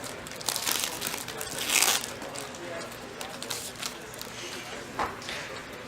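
A Kaijudo: Quest for the Gauntlet booster pack is torn open, with steady close crinkling and rustling of foil wrapper that swells briefly in the middle.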